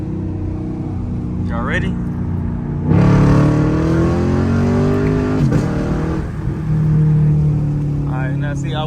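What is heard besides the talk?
Camaro SS engine driving at night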